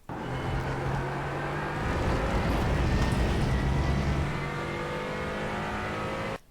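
A GT4 race car engine in the iRacing simulator accelerates hard on the Road America circuit, its loud sustained roar climbing under throttle for several seconds before cutting off abruptly.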